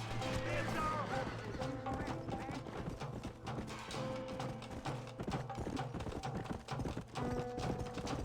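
Horse galloping in the video game Red Dead Redemption on Nintendo Switch, with a steady run of hoofbeats under dense game music and effects while someone talks throughout.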